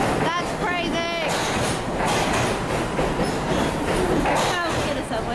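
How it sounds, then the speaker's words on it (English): A New York City subway train runs loud and steady, its rumble and rail clatter filling the whole stretch, with people talking over it throughout. "We're at the subway, you guys."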